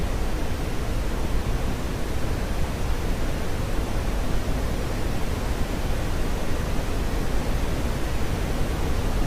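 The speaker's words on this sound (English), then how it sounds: "I can hear the wind noises there, so that's good." Steady, loud broadband rush of airspeed wind noise inside the cockpit of a C-101CC Aviojet jet trainer in the DCS flight simulator, an even hiss with no talk, holding constant at around 200 knots.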